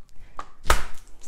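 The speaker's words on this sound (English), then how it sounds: "we wanna peel the onion and the garlic and chop them up" A knife chops onion and garlic on a cutting board, a few sharp taps ending in one loud close chop, with no talking.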